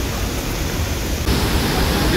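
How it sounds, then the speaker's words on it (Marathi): Waterfall beside the Napne glass bridge near Vaibhavwadi in Maharashtra's Konkan region during heavy rain, a dense, steady rushing roar that fills the whole stretch and surges slightly louder partway through. "हा वॉटरफॉल आहे ना, हा इकडनं ॲक्च्युली खाली जातो"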